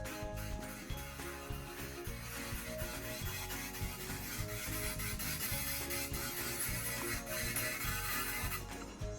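A rotary cylinder tool texturing a jewellery piece gives a steady, dense grinding rub with a constant motor whine that runs unbroken and close for the whole stretch.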